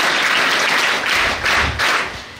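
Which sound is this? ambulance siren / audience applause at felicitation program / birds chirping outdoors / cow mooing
audience applause at felicitation program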